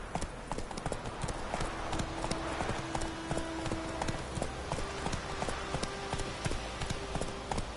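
Horse hooves trot in a steady clip-clop rhythm in The Witcher 3, close and continuous over a soft background, with faint game ambience beneath.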